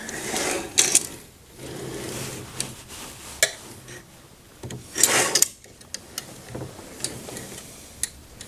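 A part of a Clearview Expanda Slide is pushed back into place, giving close scraping rubs with scattered clicks and knocks over several seconds, without speech.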